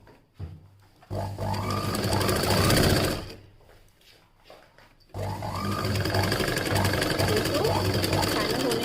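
An electric sewing machine stitches around a blouse neckline in two bursts, a loud continuous whirring buzz, with a voice talking over it between and during the runs.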